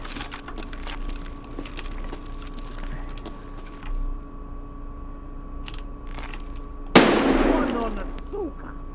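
A single loud gunshot cracks in Escape From Tarkov with a sharp burst and short decay, after quiet stretches of clicking and faint background hum.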